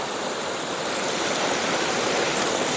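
Water runs steadily out of a homemade water filter, a close, continuous hissing trickle with no talk over it.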